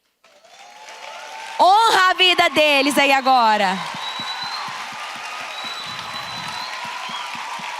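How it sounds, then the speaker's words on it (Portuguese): In a church service, a congregation on its feet applauds its children's ministry leaders: someone speaks over the room, then a steady, moderately loud wash of clapping continues on its own. "nós vamos aplaudir esses líderes aqui"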